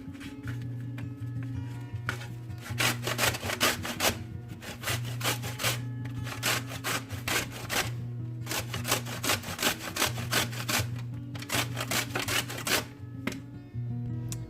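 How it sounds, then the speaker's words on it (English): Mangoes being grated for Trinidad mango kuchela: a repeated rhythmic rasp of stroke after stroke, close and clear, over a low steady hum, with no talking. "I'm going to go ahead and continue grating the rest of my mangoes"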